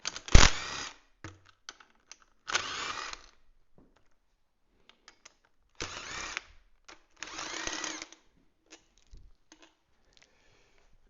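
Power tool removing the intake manifold from a long-stored 340 V8 engine: several short bursts of whirring at close range, each lasting about half a second to a second, separated by quiet gaps and small clicks.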